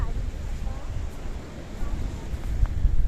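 Gusty wind on the Paphos coast in Cyprus buffets the microphone in a loud, continuous low rumble that swells and eases, with no other clear sound standing out.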